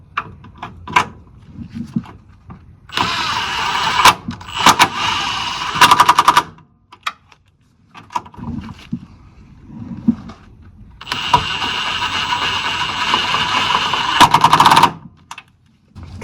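A power tool rattles in two long, loud, rapid bursts while driving 14mm bolts into the oil pan of a 1988-1992 Toyota Corolla with a 4A-F engine, separated by quieter knocks and handling clatter nearby.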